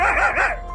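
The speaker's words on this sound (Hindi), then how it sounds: "फिर राजा जोर जोर से भौंकता है" One short, loud dog bark, close and slightly whiny, in an animated Hindi folk tale set in a forest.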